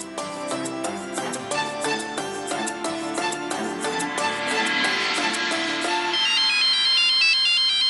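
A melodic electronic ringtone plays loudly and steadily, a bright repeating chime pattern that shifts into a higher, simpler beeping melody near the end.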